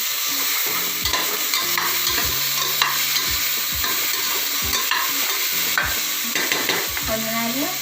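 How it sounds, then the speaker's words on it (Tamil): Tomatoes stirred in a hot pan for brinji rice: a constant oily sizzle with repeated scraping strokes of the spoon against the pan, close and fairly loud, alongside faint steady tones in the background. "நான் 2 தக்காளி போடுறேன். போட்டு ஒரு பரட்டு"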